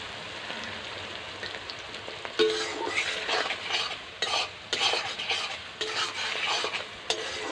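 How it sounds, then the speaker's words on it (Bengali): Onion fries in a pan with a bright, dense sizzle. After a quieter start, loud stirring scrapes and clatters break through in irregular bursts. "তবে পেঁয়াজটা একটু ভেজে নেই"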